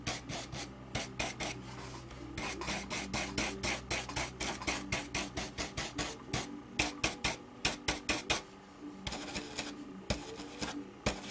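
A brush rubs paint onto a wooden banner during tole decorative painting, a steady rhythmic scrubbing and rasping in quick repeated strokes, close and fairly quiet, with brief pauses between runs.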